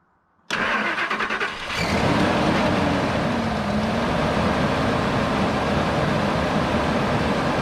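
A 1999 Ford Expedition, just fitted with a new fuel pump, cranks for about a second after a silent pause, then fires and settles into a loud, steady idle close by.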